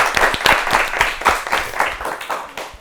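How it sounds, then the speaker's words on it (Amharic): Studio audience at an Ethiopian children's quiz show clapping together, a short burst of steady, fairly loud rhythmic applause that fades slightly toward the end. "ለራሳችሁ አጨብጭቡ አንድ ጊዜ"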